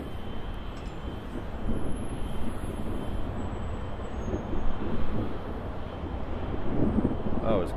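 A Qantas airliner passes at LAX as a steady, broad jet roar mixed with wind buffeting on the microphone, while people talk in the background.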